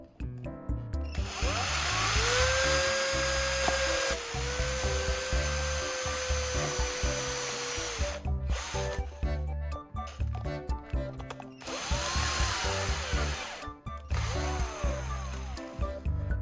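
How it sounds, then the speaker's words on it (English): A power drill boring a hole through a lid, with a high whining motor that holds steady for several seconds, drops away, then returns in shorter bursts, close and loud. "Next, I'm going to drill a hole in the lid."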